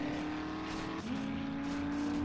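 Car engine in the video game 7 Days to Die, driving through a river, a steady revving drone with a brief dip and pitch drop midway before climbing again, moderately quiet and without voices.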